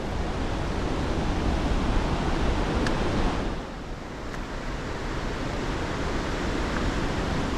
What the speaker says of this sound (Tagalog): Rinig na yung agos sa baba eh.